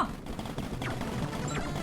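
Turret gunfire in the Paper Planet video game: dense, rapid bursts of shots and blasts crackle steadily through the whole moment, fairly loud and continuous with no pause.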